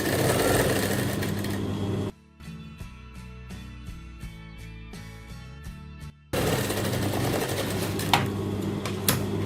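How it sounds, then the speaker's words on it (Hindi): A sewing machine runs stitches to gather a fabric ruffle for a baby frock. It gives a steady, fast mechanical chatter for about four seconds, with rough background noise before and after. "ये मैं जो हूँ मशीन से जो है इसकी चुन्नटें लगाऊंगी, गैदर्स दूंगी"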